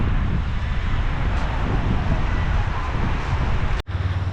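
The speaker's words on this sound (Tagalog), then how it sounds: "Sobrang lakas ng hangin." Strong wind roars steadily at a cove with mountains, beach and trees, a dense continuous rush buffeting the microphone, with one brief dropout near the end.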